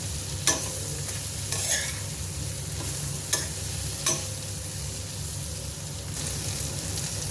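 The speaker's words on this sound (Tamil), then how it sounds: "இப்போ இந்த கோவக்காவை நம்ம அது நல்ல ஃப்ரை ஆகிற வரைக்கும் ஃப்ரை பண்ணிக்கலாம்" Ivy gourd (kovakkai) pieces frying in a pan make a soft, steady sizzle, with a few sharp scrapes and taps of a spatula spaced across the stretch and no voices.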